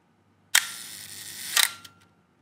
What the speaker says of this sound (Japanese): シャッタースピード1秒やってみるか。